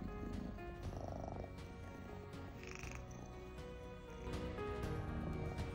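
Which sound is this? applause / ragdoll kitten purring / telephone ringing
ragdoll kitten purring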